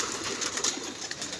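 Pigeons coo in a loft kept by a pigeon fancier, a steady low burble running continuously at moderate level amid dense background noise.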